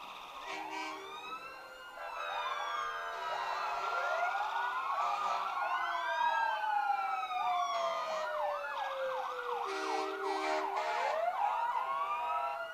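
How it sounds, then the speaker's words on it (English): Emergency vehicle sirens at a downtown Christmas parade, several wailing and yelping tones overlapping and sweeping up and down continuously at moderate distance. "where's all the sirens coming from?"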